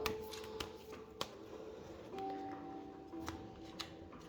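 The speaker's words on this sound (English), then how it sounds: "I'm going to do it with 1 more shuffle." Tarot cards being shuffled by hand during a card reading, a soft riffling patter with a few sharp ticks and slaps spread across the clip, quiet and close.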